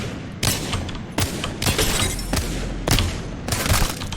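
Apex Legends gunfire erupts in sharp, loud bursts about every half second to second, five or six volleys over a rumbling game backdrop, with no talk.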